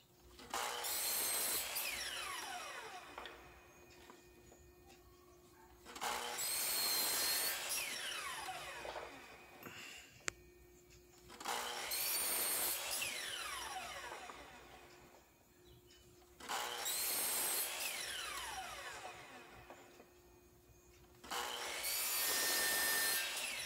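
A handsaw cuts a wooden board into small square pieces in four loud, steady bursts of back-and-forth strokes. Each burst is separated by a brief quieter pause, and no one speaks.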